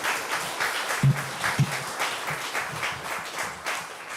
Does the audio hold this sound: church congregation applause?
yes